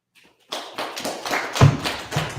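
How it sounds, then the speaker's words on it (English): Claps from an audience, a short run of sharp slaps picking up after a brief silence and growing slightly denser and louder toward the end. "Clap it up."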